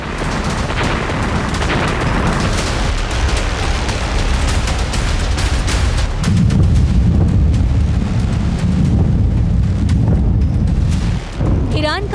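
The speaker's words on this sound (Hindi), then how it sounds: "ईरान का विस्फोटक हमला इजराइल दहली।" Heavy booms and blasts from an Iranian missile attack on Israel roll out in a dense, loud barrage, with a deeper, sustained rumble swelling midway and a brief dip near the end.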